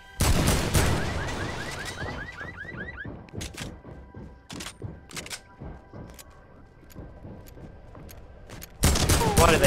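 Shotgun gunfire in a video game: a loud burst of blasts at the start, then scattered sharp shots and clicks over game sounds, with another loud burst at the end.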